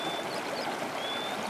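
Fast-flowing floodwater in a Hindi moral cartoon, a steady rushing, pouring stream of water heard alone and close, with no let-up through the short stretch.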